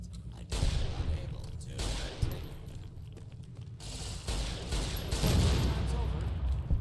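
14mm pistol fire in heavily modded Fallout: New Vegas, loud shots and mechanical clatter in the middle of game combat, with some talk alongside.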